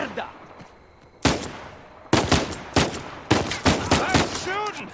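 Gunfire in the video game Uncharted 4: a quiet stretch, then loud sharp shots in bursts and single cracks, close and punchy, with a short voiced cry at the end.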